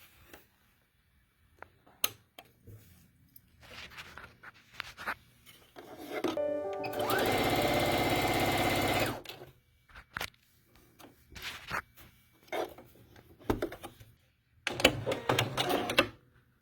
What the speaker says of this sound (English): I'm trying to look at my phone and the sewing machine